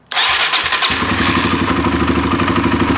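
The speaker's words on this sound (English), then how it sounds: "So that fired up pretty easily with the choke, better than it did yesterday." A Kawasaki KLX140 dirt bike with a lean-running fault and a ripped intake boot leaking air fires up on choke, catching almost at once and settling into a loud, steady, close idle with a rapid putter.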